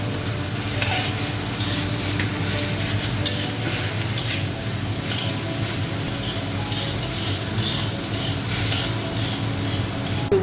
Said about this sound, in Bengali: এখন হালকা ভেজে নেব